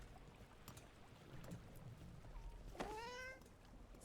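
A single cat meows in Dragon Age: The Veilguard, a rising, drawn-out call of under a second arriving late against quiet ambient game background with faint scattered ticks.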